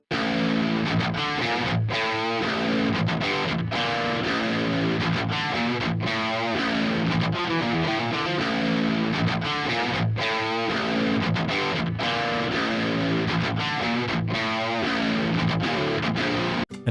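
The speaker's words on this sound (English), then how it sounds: "This is what the crunch amp sounds like in isolation." Distorted metal electric guitar through a low-gain crunch amp, dense chugging riffs with sustained chords, steady and loud without pause, playing alone.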